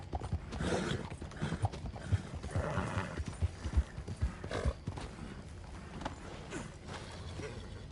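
Horse in the video game Red Dead Redemption 2 being cleaned, with repeated close hoof clops, shuffling and creaks of tack, and a snort or whinny rising over steady ambient noise.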